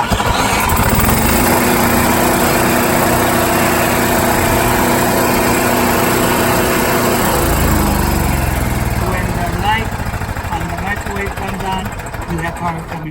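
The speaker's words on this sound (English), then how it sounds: "push it in and prime that carburetor, just like that, and then we're going to start it" Thor Ace generator with a primed carburetor running loud and close, a steady high-pitched small-engine drone that shifts pitch partway through while people talk over it.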